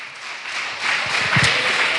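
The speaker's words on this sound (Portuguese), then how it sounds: "Pode aplaudir e glorificar, querido" Congregation at a communion church service breaking into applause, a diffuse wash of clapping that grows louder partway through and continues steadily, with no talking over it.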